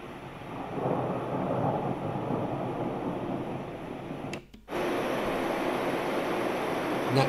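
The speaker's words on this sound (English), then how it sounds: "Thunder." Low, rumbling thunder from a sleep sound machine rolls continuously over a broad noisy wash, briefly dropping out before the rumble returns at similar strength.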